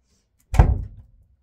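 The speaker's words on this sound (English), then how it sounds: "I just slammed the door" One sharp, loud slam of a door, a heavy thud that rings briefly and dies away, with silence before and after.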